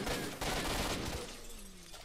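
Gunfire from the video game S.T.A.L.K.E.R. Shadow of Chernobyl, fighting at a mercenary base: a dense burst of rapid shots filling the first second, then fading into a quieter tail.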